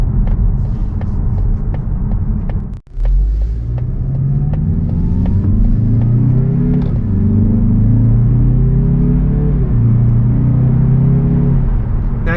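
A 2024 Mazda 3 Carbon Turbo with a six-speed automatic pulls through the gears in sport mode, its engine drone climbing steadily and dropping at each shift under a constant cabin rumble, after a brief cut-out near the start.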